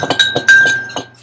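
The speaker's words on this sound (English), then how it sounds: "you're gonna get your fryer and you're gonna start mashing them up and stirring" A utensil clinks repeatedly against a pan while eggs are mashed and stirred, sharp metallic taps in an uneven quick rhythm, close and loud.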